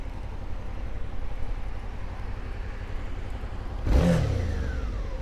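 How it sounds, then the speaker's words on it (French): A motorcycle ridden through town with an open-face helmet, recorded on a Movo ACM 400 microphone, hums along under steady wind noise, then gives a short, sharp burst of acceleration near the end. "Petite accélération."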